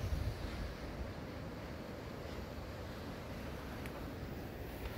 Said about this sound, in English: The wind is blowing like crazy.